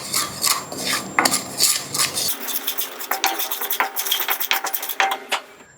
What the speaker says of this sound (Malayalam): ഇനി നന്നായിട്ടൊന്ന് എല്ലാം കൂടി ഒന്ന് മിക്സാക്കി കൊടുക്കാം.